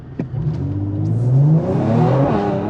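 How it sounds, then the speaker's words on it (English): Mercedes-AMG C43 Cabriolet launching hard from launch control, its engine note climbing steadily in pitch as the turbos build boost, loud and close with a rising roar and no talk over it. "immediately I put my foot on it and it just pulls, and then the turbos kick in, and then you're surged"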